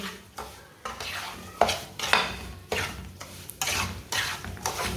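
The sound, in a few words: stirring semolina and dry fruits roasting in a pan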